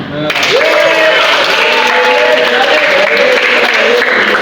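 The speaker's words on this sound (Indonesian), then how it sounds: "Tepuk tangan." A class of students applauds together in a classroom, a steady, loud burst of clapping starting abruptly and holding evenly to the end, with a few voices mixed in.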